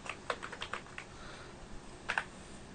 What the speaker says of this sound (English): So here I can type the question.